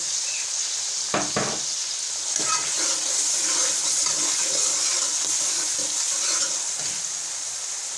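Onions, tomato, ginger and garlic paste frying in a pan, stirred with a spoon that scrapes and clatters several times early on, over a steady close sizzle.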